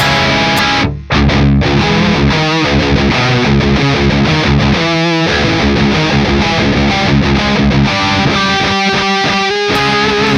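Electric guitar with the volume knob rolled back for a cleaner tone, played continuously with chords and single notes, somewhat gritty, with a brief pause near the start.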